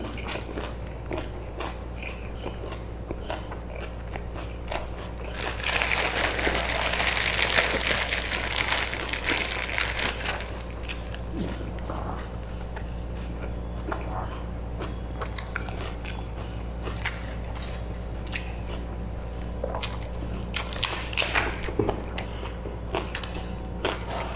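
Close-miked chewing of miang with grilled fish and peanut dipping sauce: repeated crisp bites and crunches over steady mastication, with a louder crackling burst early on and no talking.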